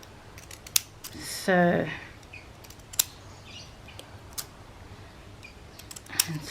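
Scissors snip through paper for a whimsical journal in a short, crisp close-up cut, with a few lighter clicks and taps afterward and a person talking quietly.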